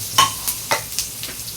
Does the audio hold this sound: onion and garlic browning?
yes